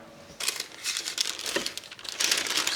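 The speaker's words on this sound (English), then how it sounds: "We're now going to make this parchment paper the bottom." Parchment paper crinkling and rustling as it is handled for pressing gluten-free tortilla dough, a series of soft, close crackles without talk.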